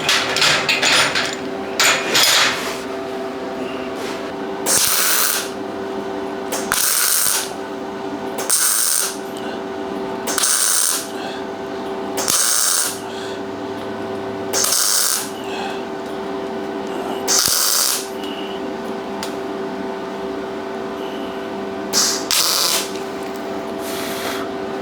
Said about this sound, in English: I'm just pointing my welder right into the corner,